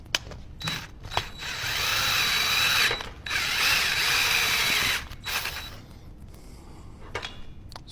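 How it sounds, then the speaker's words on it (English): Drill spinning a four-blade cutter to face a hole on a 1974 Harley-Davidson Shovelhead, a close, steady grinding whir of about five seconds that drops out briefly midway, then winds down. "Just has 4 little cutting blades on there that's just going to flatten that and square it up to the hole."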